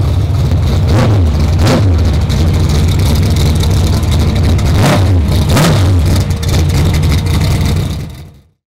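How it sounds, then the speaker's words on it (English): A Dodge V8 engine roars loud and close, with rising revs swelling over its heavy rumble, then cuts off abruptly at the end. "hear that right there? That's a McGrady Dodge"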